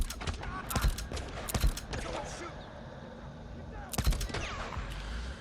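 Automatic gunfire from an M50 Reising submachine gun in the video game Days Gone, a few short sharp bursts at the start, a lull with faint game ambience, then another burst near the end.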